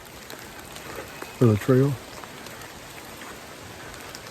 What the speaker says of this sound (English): It's raining a little bit Wednesday afternoon, just after lunch.